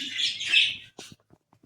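Pet birds in a home bird room chirp in a bright, close burst of twittering, followed by a few faint, scattered calls.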